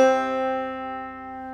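A clawhammer banjo rings out a single struck chord from a measure of the tune Snowdrop, its bright metallic tone slowly decaying, close and alone.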